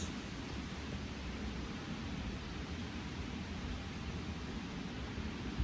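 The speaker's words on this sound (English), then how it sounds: "It's raining right now." Rain falls outdoors as a steady, even wash of broadband hiss with no breaks, fairly quiet and constant, with no voices.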